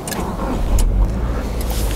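Subaru Forester XT turbo engine starting and settling into a steady low rumble, heard up close and fairly loud with no talk, a brief surge near the middle.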